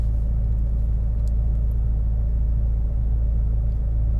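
A car engine idles with a steady low rumble, heard from close by inside the vehicle, continuous and unchanging with no speech.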